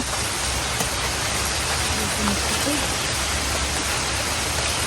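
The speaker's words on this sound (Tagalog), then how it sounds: "Ayan na guys, umulan na." Steady rain falls outdoors on a rural farm, a dense, even hiss that holds without pause for the whole stretch, fairly loud and close, with no other sounds standing out.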